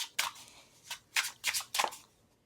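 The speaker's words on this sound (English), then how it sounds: "when you shuffle these cards, they glide really well" A deck of shiny, non-gloss finished playing cards is shuffled in several quick riffling bursts close to the microphone, with short pauses between them and no voices.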